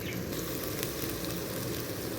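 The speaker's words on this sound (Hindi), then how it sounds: "हल्का हल्का पानी डाल के इसको अच्छी तरीके से भूनें" Liver (kaleji) frying in a pan with a little water added, a steady, close hiss and sizzle with a fine crackle running throughout, no voices.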